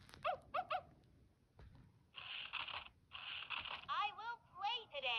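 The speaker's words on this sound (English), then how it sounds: "It's a message from the dog." A VTech Touch & Swipe Baby Phone toy plays electronic dog barks and yips, several short bursts with whimpering tones, mixed with a recorded toy voice, close and clear.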